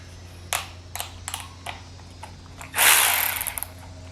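A power drill works on the seat bolts of a KTM 300 XC TPI dirt bike, with several short whirring bursts followed by one longer loud spin, close up and with no talk.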